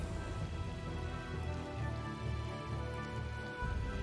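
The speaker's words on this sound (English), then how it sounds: "It's raining." Steady rain falls in a scene from the video game Tales of Vesperia, a continuous close hiss of drops on surfaces with a low droning undertone throughout and no voices.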